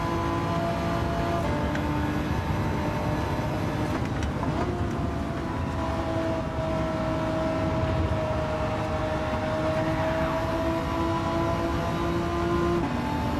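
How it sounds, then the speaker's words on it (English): Lamborghini race car in Gran Turismo 7 lobby racing, a steady loud engine drone with a rising tonal whine, continuous and close throughout. "Speedy going through in that super quick Lamborghini."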